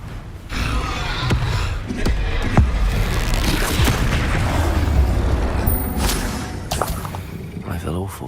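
Bombarda explosion spells going off in Hogwarts Legacy, deep booming blasts amid dense battle noise with several sharp impacts and whooshes, while voices speak over the action.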